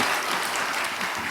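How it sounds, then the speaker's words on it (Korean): A church audience at a lecture breaks into big, dense applause, loud and continuous for its short length, with no voices over it. "큰 박수"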